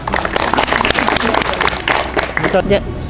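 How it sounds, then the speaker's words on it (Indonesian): A crowd applauds an employee of the month at a workplace gathering, steady clapping from many hands, with talk running over the applause. "Terima kasih aplaus ya"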